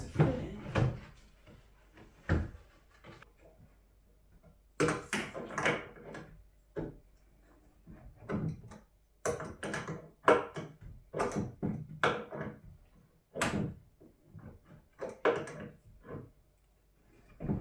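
Antique wooden drawer pushed and knocked into a piece of furniture, with repeated wooden thumps, scrapes and bumps at irregular intervals, close by and fairly loud.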